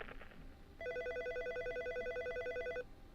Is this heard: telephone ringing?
yes